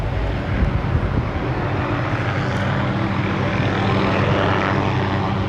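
A helicopter hovers near towers, making a loud, steady, broadband rotor and engine roar that fills the entire stretch without a break.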